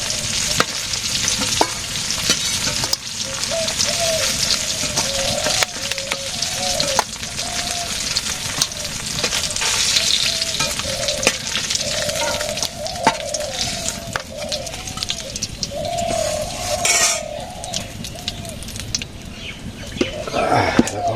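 Vegetables fry in a pan in a village kitchen, a continuous hiss of hot oil with occasional clicks and stirring scrapes over roughly twenty seconds, and faint bird-like chirps in the background.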